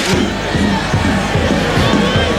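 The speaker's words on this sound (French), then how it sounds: "C'est très applaudi évidemment par le public de Jean-Laville" A football stadium crowd at a 1995/96 French first-division match between Gueugnon and Auxerre, a loud continuous roar and rhythmic chanting filling the ground after a shot, with a commentator's voice faintly mixed in.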